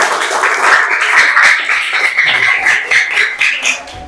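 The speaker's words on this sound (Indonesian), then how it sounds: "Oke, tepuk tangan buat kita semua." A primary school class claps together, a lively burst of many small hands that continues unevenly for several seconds.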